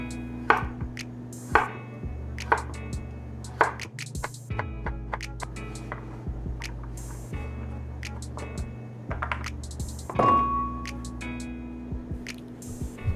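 A knife cuts a peeled carrot into round slices on a cutting board, a series of crisp close chops and taps at an uneven pace over a steady low background hum.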